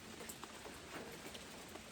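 Rain falls outside on a dark early morning, a quiet steady patter with soft scattered drops, faint and continuous with no voices.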